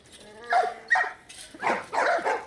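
Dogs barking in the video game The Last of Us Part I, several sharp, loud barks in an irregular burst, some overlapping as if from more than one animal, with no talk over them.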